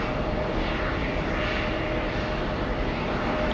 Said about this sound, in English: The Nashville flight parking at gate 9.